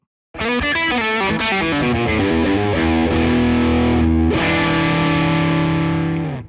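Heavily distorted electric guitar through a Fender Bassbreaker 30R all-tube amplifier with EL84 tubes rings out in loud, sustained chords and runs, played alone with a thick, saturated tone.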